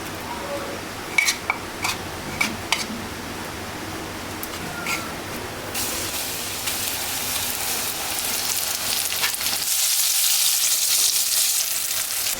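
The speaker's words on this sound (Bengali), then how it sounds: "এখন আমি এটা হচ্ছে ভাজবো।" Chicken coated in hot spices fries in oil in a pan, a continuous sizzle that swells louder toward the end, with a few clinks of utensils against the pan early on.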